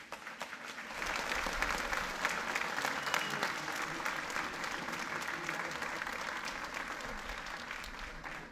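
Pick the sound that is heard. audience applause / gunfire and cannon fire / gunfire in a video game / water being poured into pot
audience applause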